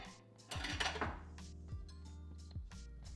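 A Crown Royal whisky drink being stirred in a glass: a close cluster of clinks and taps at first, then a few sparse, lighter knocks against the glass, quiet and with no voices.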